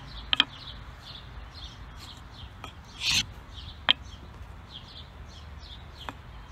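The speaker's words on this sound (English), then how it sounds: "Let's just tighten up the fire roll a bit," A fire roll rubbed and rolled tight on a wooden board to form embers, giving a few short, faint rubbing scrapes spaced several seconds apart over quiet background hiss.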